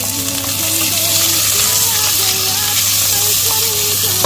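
Chopped onions fry in a pan for Ilocano pinapaitan, giving a steady, close broadband sizzle that runs the whole time under a constant low hum and a faint tonal melody.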